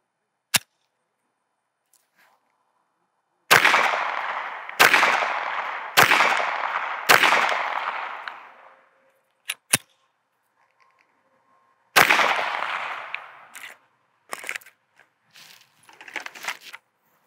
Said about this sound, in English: What I like to do is give it 5 rounds just to see where this thing's hitting.